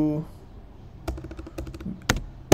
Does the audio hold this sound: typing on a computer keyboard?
yes